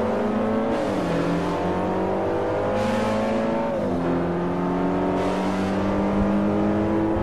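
Race car engine in Forza Motorsport 4 on Xbox 360 revving hard at the race start, loud and continuous, climbing through rising pitch sweeps with brief drops at each gear change.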